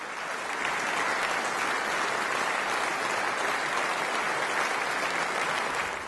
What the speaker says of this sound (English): there's some warm applause